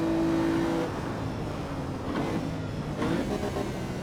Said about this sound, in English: let's not over-rev the engine.